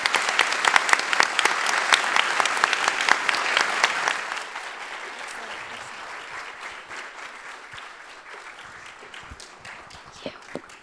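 Audience applause at a summer startup demo day, a dense loud burst of many hands clapping for about four seconds, then thinning into lighter scattered claps that fade out.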